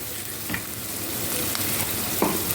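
Cumin and turmeric fry in a hot pan on high heat for a home-cooked summer dish. A steady close sizzle runs throughout, with a few brief stirring clatters and no talk.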